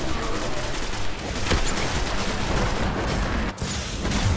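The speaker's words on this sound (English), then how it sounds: "A dual Nova bomb." A Nova bomb detonates in Destiny's lunar battleground, a dense, roaring blast that floods everything with sustained rumbling noise for several seconds, a brief dip near the end, as a player's voice chatters faintly underneath.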